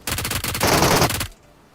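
Rapid automatic gunfire in a battle royale video game fight, loud dense bursts of shots that stop abruptly after about a second and a half.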